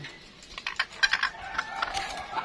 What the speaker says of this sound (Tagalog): Tsaka, mayroon din kaming mga manok na bantam.